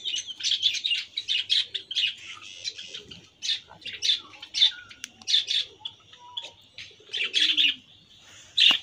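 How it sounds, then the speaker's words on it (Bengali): A colony of budgerigars on a bird farm chirps and chatters close by. Bursts of bright, rapid tweets follow one another with short gaps, and no voices are heard. "এই যে এটা বাজরিগার পাখির খামার।"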